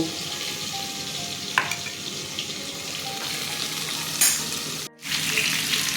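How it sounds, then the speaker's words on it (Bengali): Pointed gourd frying in hot oil gives a steady, dense sizzle throughout, with a couple of brief clinks, one short dropout near the end, and no talking. "পটল ভাজা হয়ে গেছে"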